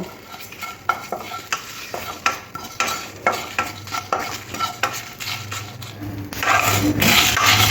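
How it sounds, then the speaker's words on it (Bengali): Panch phoron and fennel seeds with dried red chillies dry roasted in a hot pan for mango pickle, a spoon scraping and stirring in a steady rhythm of about two strokes per second, light rattling of seeds, a soft sizzle rising at the end. "এক চামচ আর তার সাথে মৌরি এক চামচ এটা শুকনো খোলায় একটু গরম করে নেব"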